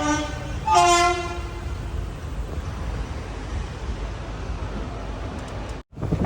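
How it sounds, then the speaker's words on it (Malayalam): Trivandrum Express leaving Nagercoil Junction: a loud horn blast near the start, then a steady rolling rumble of the moving train building under the carriage, with a brief dropout near the end. "അങ്ങനെ നാഗർകോവിൽ ജംഗ്ഷനിൽ വണ്ടി എടുത്തിരിക്കുകയാണ്."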